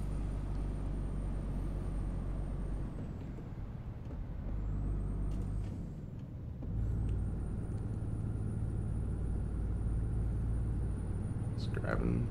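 Truck engine in American Truck Simulator climbing a hill, a low steady rumble that drops away briefly during gear changes and then resumes, with a faint hiss and click near the end.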